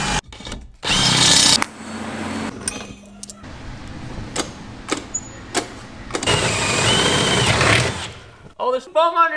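A power tool cuts holes in a boat hull with foam beneath it, sounding as loud whining bursts separated by pauses, clunks and short taps, with a person talking toward the end.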